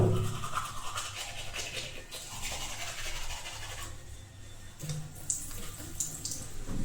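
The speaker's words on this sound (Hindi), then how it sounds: "अभी ब्रश कर लेता हूँ, फिर आपसे मिलता हूँ थोड़ी देर में" A person brushing their teeth in a bathroom, a continuous close scrubbing sound mixed with running tap water, steady throughout with a few brief sharper scrapes near the end.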